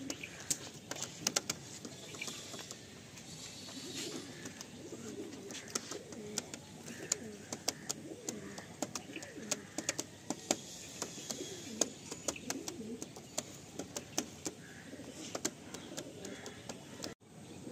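Pigeons, including a white one, cooing in a loft of birds for sale, with a soft steady murmur and scattered sharp ticks and clicks throughout.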